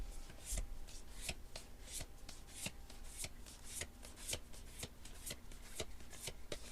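Soft, rapid papery flicks and taps of oracle cards being handled and drawn from a deck, close and quiet with an even rustling rhythm in a hushed setting.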